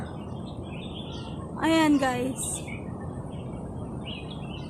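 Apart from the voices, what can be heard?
birds chirping in a park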